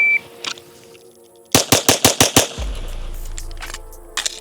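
A Staccato HD P4 pistol fires six rapid shots in a quick string on a shooting stage, loud and sharp, followed by a low rumble and a couple of faint clicks afterward.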